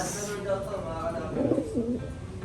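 Soft, low coos from racing pigeons murmur close by amid a hum of background noise and faint voices.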